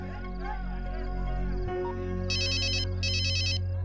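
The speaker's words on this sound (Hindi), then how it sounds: "सुनो, तुम्हारा फोन बज रहा है।" A mobile phone ringtone plays in two bright electronic bursts over a steady background hum and ambient noise in a Hindi-dubbed action film scene.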